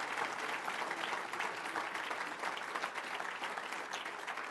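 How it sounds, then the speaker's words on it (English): A banquet-hall audience at a formal winter meeting breakfast gives a dense, steady round of applause for award recipients, sustained and fairly distant, with no voices standing out. "can we give them one more big, big round of applause?"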